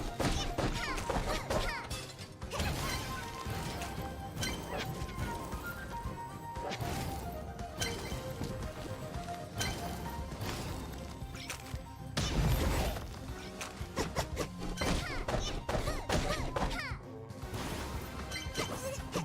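Repeated smashing and whacking hits against tomato enemies in the Cuisineer video game, dense and loud with bursts of impacts over busy game music, occasional voice underneath.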